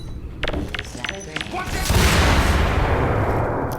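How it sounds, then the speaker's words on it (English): Gunfire in the video game Entropy: Zero 2, a handful of sharp shots in the first two seconds followed by a dense, sustained roar of rapid fire, loud and close. "Did I just see gunfire?"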